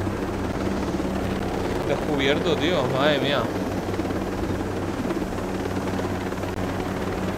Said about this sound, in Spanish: Voy a ir en helicóptero porque